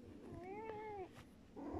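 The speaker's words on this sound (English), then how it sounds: "Cat's saying hello." A house cat gives a single clear, rising-then-falling meow close by in a quiet room, followed by a softer short chirp at the end.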